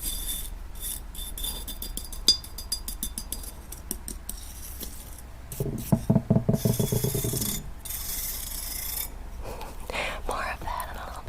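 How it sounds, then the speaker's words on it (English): A bamboo toothbrush scrubs crystal stones up close: scattered scratchy strokes, then a fast rhythmic burst of rasping brushing, with soft whispering in places. "this little bamboo toothbrush that I'll be using to clean the stones and"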